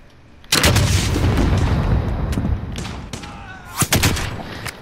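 Heavy gunfire in a Call of Duty Warzone trios match, a loud sustained burst of shots followed by a few sharp, separate cracks near the end, with battle noise rumbling underneath.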